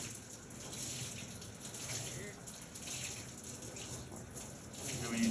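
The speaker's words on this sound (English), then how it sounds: "Always rinse the sponge out." Water runs from a tap over a lithography sponge in a steady, gushing hiss that swells slightly toward the end, close and fairly faint.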